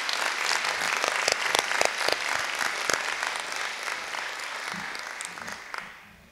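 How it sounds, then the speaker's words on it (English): Sustained applause from an audience at a nursing pinning ceremony, dense clapping with some sharper individual claps standing out, steady for several seconds and then tapering off at the end. "let us give a round of applause for those helping serve the health of our community."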